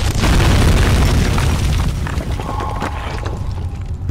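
An explosion in the horror video game Amnesia, a loud deep boom already under way that rumbles and slowly fades, with faint debris and mechanical tones trailing off and no talking.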